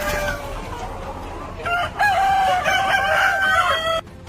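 Cartoon chickens spilling out of a magic clay pot squawk and cluck in a loud, overlapping burst of high, strained bird calls, with no talking.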